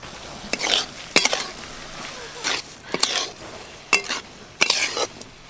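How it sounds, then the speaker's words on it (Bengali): Spatula stirring sugar syrup in a pan until it dries out, making tutti frutti: five or six scraping strokes with soft sizzle between, near and moderately loud. "এইভাবে নেড়ে নেড়ে পুরো চিনির সিরাপটা আমি শুকনো করে নেব"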